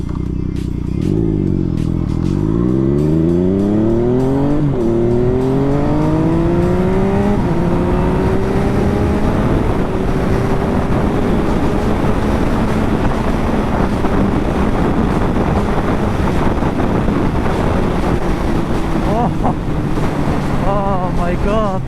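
A Yamaha MT-09 motorcycle fitted with a Healtech quickshifter accelerates hard, its engine note climbing steeply in quick clipped shifts, then pulling on through heavy wind rush.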